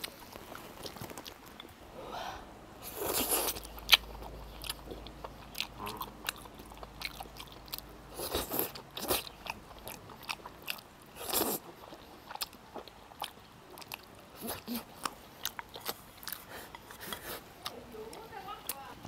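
Close, crunchy chewing of wide potato starch noodles from a spicy mala hot pot, with repeated bites and mouth sounds, while people talk intermittently.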